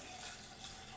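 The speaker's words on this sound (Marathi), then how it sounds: "पाणी घालायचं, असं एवढं" Water pours steadily into a bowl of soaked mixed lentils being prepared for idli batter, a soft continuous rushing sound heard alone without speech.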